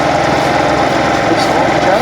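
Champion portable generator humming in econo mode, a steady close engine drone at lowered RPM with even, buzzing vibration and no break.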